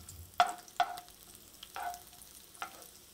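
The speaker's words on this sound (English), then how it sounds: "you can heat the garlic and the shallots for about 1 to 2 minutes" Garlic and shallots sautéing over moderate heat, heard as a few distinct scrapes and stirs of a utensil against a pan about every half second to a second, over a faint low sizzle with no talk.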